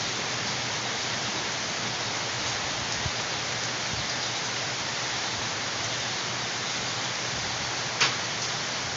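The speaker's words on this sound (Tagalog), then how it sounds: "Ulan yan." Rain pours down during a typhoon in a steady, broadband hiss that stays constant throughout, with a couple of faint knocks and a brief tap near the end.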